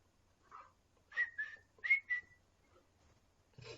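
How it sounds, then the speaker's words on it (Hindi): A person whistles a short tune alone, a few bright rising and gliding notes in quick bursts, fairly close and moderately loud, with quiet gaps between phrases. "मेरे को ना सीटी मारने की बड़ी गंदी आदत है,"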